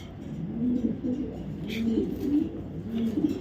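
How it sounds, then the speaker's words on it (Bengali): ARPCD racing pigeons, male and female, cooing softly nearby, with a steady series of low throaty coos repeating across the clip. "এটা একটা নর কবুতর এটা মাদিটাও দেখাচ্ছি"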